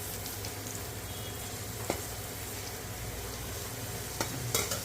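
Curry leaves crackle and sizzle steadily in hot oil for Andhra-style mint chutney, with a couple of sharp spatter pops and light utensil scrapes over a continuous frying hiss.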